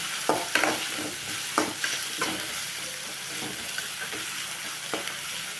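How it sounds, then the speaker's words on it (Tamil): Peas and green chillies sautéing in a hot pan, with a steady sizzle broken by several sharp scrapes and clinks as a spoon stirs them, close and clear with no talk. "கொஞ்சமாக பட்டாணி போட்டுக்கலாம், 2 பச்சை மிளகாய் போட்டுக்கலாம், கொஞ்சம் வதக்கி விட்டுக்கலாம்."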